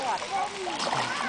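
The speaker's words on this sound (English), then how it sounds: "Come here and jump in the water" A toddler jumps into a swimming pool, giving a brief close splash and slosh of water while an adult talks over it.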